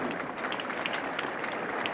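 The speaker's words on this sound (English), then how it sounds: "As Courier gives a little round of applause there to Michael Joyce" A short burst of applause from a tennis crowd at the 1983 US Open, steady clapping with no pauses, moderately loud throughout.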